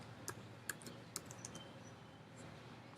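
Fingers type on a computer keyboard, a quiet run of light, uneven key clicks with a few sharper taps near the start and no talk.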